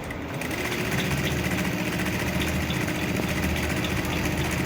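Electric sewing machine running steadily while stitching a shirt collar, a continuous mid-pitched motor hum with no pauses, close and fairly loud.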